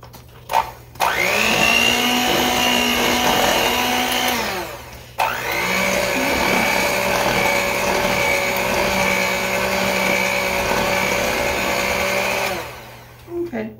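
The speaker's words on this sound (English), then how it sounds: "now we're just supposed to blend this on the low speed until it's combined" An electric mixer blends batter on low speed, a loud steady motor whine running in two long stretches broken by a brief stop, close and constant.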